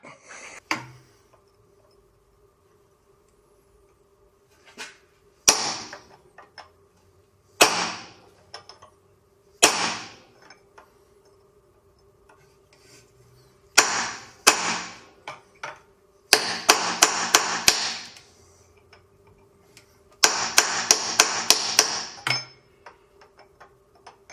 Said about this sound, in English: you could take a chisel and just run a chisel right through them, split the nut, take them off